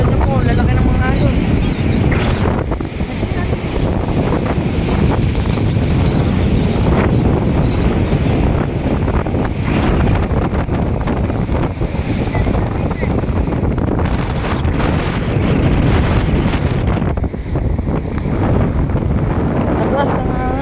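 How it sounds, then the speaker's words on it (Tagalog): Strong wind buffets the microphone at a stormy sea with big waves, a dense continuous roar rolling on throughout, while a person talks over it. "Lakas ng hangin yan."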